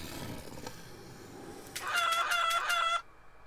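Chickens cluck in short repeated bursts in the PC video game Devil's Share, sharp and close, ending abruptly after about a second.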